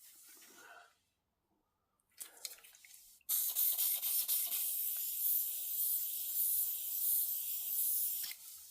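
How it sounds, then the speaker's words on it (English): Brake cleaner bursts from an aerosol can in a long, loud, steady hiss lasting about five seconds, preceded by a few quieter handling sounds and a short silence. "More brake cleaner needed."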